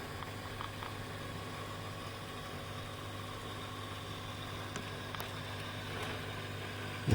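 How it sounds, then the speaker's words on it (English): Steady low hum and hiss from the sound unit of a model railroad refrigerator car, whose sound is recorded from a real reefer car, running continuously at a moderate level with a faint click near the end. "Apparently the sounds that the reefer cars make are actually recorded from the real thing."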